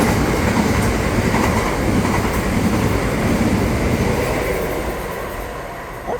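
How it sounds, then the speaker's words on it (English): A London train at a Brixton station rolls straight through without stopping, a steady loud rumble with rhythmic wheel clatter that gradually fades as it moves away, with no voices over it. "Actually, that's my train."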